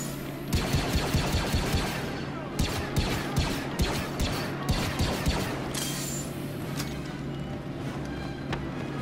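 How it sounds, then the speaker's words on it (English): Repeated volleys of blaster fire in the Star Wars Battlefront II campaign, clustered bursts of sharp shots arriving every second or so amid explosions and battlefield clutter, with speech over the fighting. "Why are they shooting at us?"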